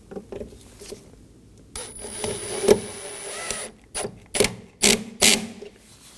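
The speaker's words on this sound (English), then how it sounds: "Reinstall your Phillips head screw," Phillips head screw being driven and snugged down on a 2020 Toyota Corolla side mirror, a run of close clicks, taps and short scraping ratchety sounds spaced through the clip, with no talking.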